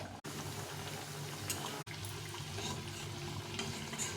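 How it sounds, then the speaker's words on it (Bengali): Wheat flour biscuit dough frying in hot oil, a steady dense bubbling hiss that runs without pause, with two brief dropouts, close and fairly quiet, no voices. "এগুলো ভেজে নেব।"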